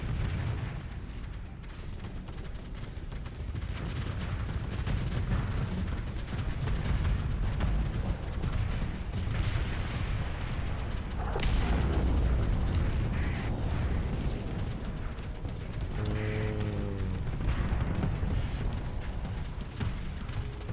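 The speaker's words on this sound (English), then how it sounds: "Explosions." Space battle explosions from the game Starsector rumble and boom continuously for about twenty seconds, dense and loud, with heavy low rolling blasts and mechanical clatter layered throughout.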